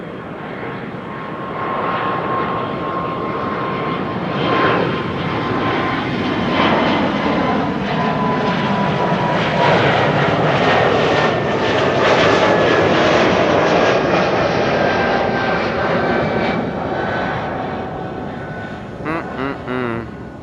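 An Air Baltic airliner in Austrian flag livery takes off at Amsterdam Schiphol, its engines swelling into a loud, steady roar with a whining tone, then easing slightly near the end.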